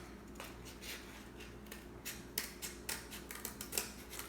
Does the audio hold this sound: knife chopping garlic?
no